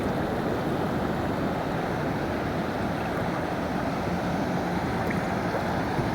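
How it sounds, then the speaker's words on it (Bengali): Large ocean waves at Cox's Bazar beach, a continuous heavy roar of surf close by with strong wind buffeting the microphone, loud and unbroken throughout with no voices. "আরো বিশাল ঢেউ এগিয়ে আসছে"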